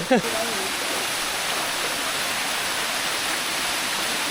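Rushing water roars in a constant, dense hiss from a nearby climbable waterfall in Thailand, after a brief voice at the very start.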